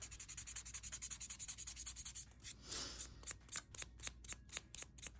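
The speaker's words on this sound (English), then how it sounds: "I'm gonna just buff with my little buffing block here." A buffing block rubs quickly back and forth over a fingernail in rapid, regular strokes, then pauses with a brief scuff before a slower run of separate rubs. Soft and very close.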